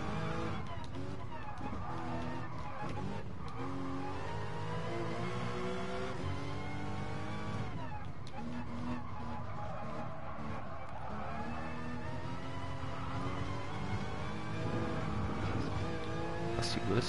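Porsche Cayman racing around the Nürburgring Nordschleife in a racing game, its engine revving up and down through gear changes, loud and continuous, while someone talks over it.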